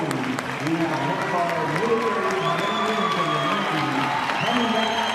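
A homecoming crowd cheers and applauds steadily as a father and son embrace, a continuous roar of clapping and shouts with voices talking over it.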